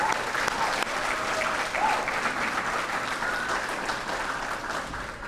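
Warm, sustained applause from an audience fills a hall during a school athletics hall of fame induction ceremony, steady clapping from many hands throughout, moderately loud and without a break.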